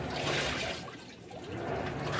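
Water pours and churns inside a Samsung top-load washing machine as it fills after a repair, a continuous close gushing with a brief dip midway.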